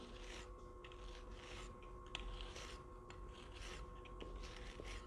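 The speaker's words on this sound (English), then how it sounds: "Stainless wire brush, one direction only." A stainless wire brush scrubs steel near a fillet weld during grill fabrication, giving a steady, close raspy scraping in repeated one-direction strokes over a low background hum.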